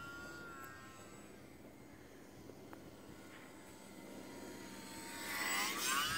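An E-flite J-3 Cub UMX model airplane with flaps, LED lights and lightened tundra tires takes off outdoors, its small electric motor a thin whine that rises in pitch and loudness toward the end over steady background hiss.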